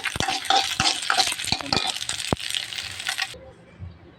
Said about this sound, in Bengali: আমি সুটকিটা একটু ভেজে নিচ্ছি সামান্য একটু ভেজে নিচ্ছি